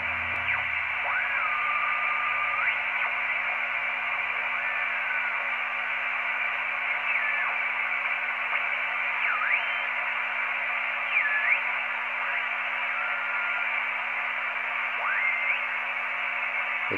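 Atlas 210X HF transceiver tuned to a lively but noisy 40-meter band, steady hiss of static with faint whistling carriers and tones sliding in and out, no voices.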